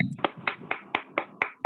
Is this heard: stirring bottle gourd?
no